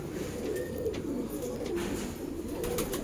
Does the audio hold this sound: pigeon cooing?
yes